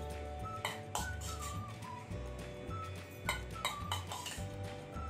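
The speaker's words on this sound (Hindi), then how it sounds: "मिक्सी में डालती हूँ इसको" Soaked chana dal is tipped into a mixer jar with soft clinks, taps and rattles of the jar and utensils, quiet and with no talking.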